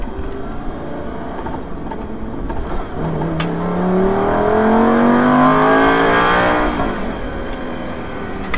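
A Lamborghini Superleggera accelerates hard on the Hampton Downs race track, heard in-car, its pitch climbing steadily through the gears over a loud background roar, with no voices.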